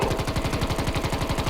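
Automatic gunfire in the Battlegrounds video game: a rapid, evenly spaced burst of shots, loud and close, with no talking over it.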